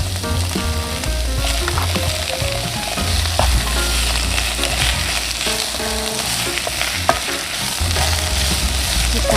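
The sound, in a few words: mushrooms frying and stirred in pan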